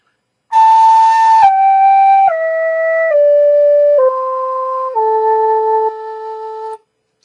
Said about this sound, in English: And then descending, it sounds like this.